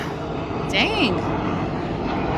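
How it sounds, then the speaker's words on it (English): A low-flying airplane passes overhead above a backyard garden, a steady loud drone with a brief rising whine near the middle. "Planes are so loud, and sometimes they do fly like literally directly over my yard"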